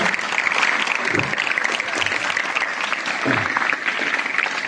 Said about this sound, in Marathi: सर्वांनी जोरात टाळ्या वाजवून त्यांचं स्वागत करायचं आहे